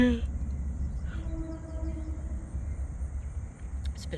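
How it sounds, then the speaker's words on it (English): A train rolls past not far off in an open outdoor spot, a steady low rumble with faint tonal whine, continuous for several seconds under light breeze. "Here comes a train. It's not too far away over there."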